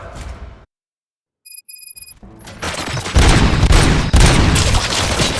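Heavy gunfire erupts in Robocop Rogue City, a loud, dense fusillade of shots with booming impacts that builds after a brief silence and a few electronic tones, continuing steadily to the end.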